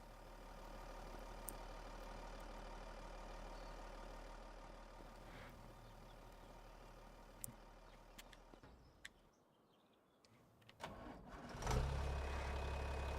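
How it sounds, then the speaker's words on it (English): A small tractor engine drones low and steady while pulling a plow in a farming video game, fading briefly near the end before rumbling back up louder. "So how's that plow working with that baby tractor there?"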